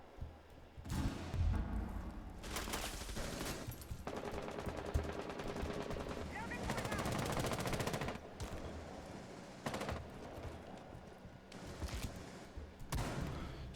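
Rapid bursts of automatic rifle fire from a Rainbow Six Siege match, loud and close, with several sustained volleys separated by short pauses and scattered single shots.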